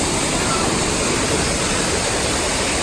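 Bubbling, blowing boiling-mud effect at the devil's paint pots on the Calico Mine ride at Knott's, heard as a steady, loud broadband hiss and gurgle that fills the whole moment without a break.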